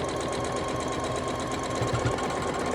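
A sewing machine runs continuously at speed while finishing a quilt, a dense steady mechanical whirr with a rattling, knocking undertone from a troublesome bobbin, close and even.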